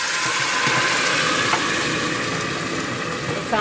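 Water hits golden brown frying onions in a pot with a lid held over it, producing a loud, steady hissing sizzle that carries on unbroken.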